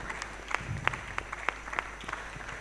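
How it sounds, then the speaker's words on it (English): Audience at a Nigeria-EU Innovation Days conference applauding, with faint, scattered hand claps at a steady pace, heard from a distance over a low room hum. "Could we keep our hands clapping as Joseph still makes his way up, please?"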